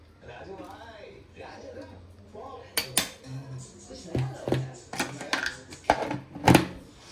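About two kilos of Bombay duck fish being mixed with masala paste in a home kitchen to marinate. A voice talks first, then a run of sharp clinks and knocks from the bowl and utensils.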